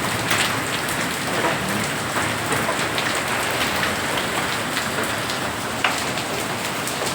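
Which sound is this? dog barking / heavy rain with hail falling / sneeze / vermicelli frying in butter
heavy rain with hail falling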